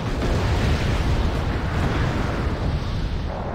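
Cluster bombs burst in the war strategy game Wargame AirLand Battle, a dense, continuous rumble of overlapping explosions that stays loud and heavy from start to finish.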